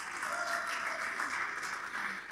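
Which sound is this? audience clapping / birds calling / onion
audience clapping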